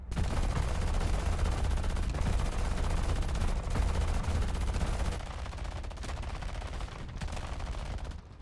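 Continuous heavy gunfire and explosive blasts from tanks firing at a player in a Russian tank battle game, dense and loud throughout, easing slightly toward the end.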